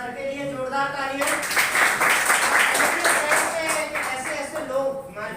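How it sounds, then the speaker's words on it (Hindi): An audience claps for someone being honored at a gathering, a burst of dense clapping starting after a second and continuing while a voice talks over it. "तो सर के लिए जोरदार तालियां"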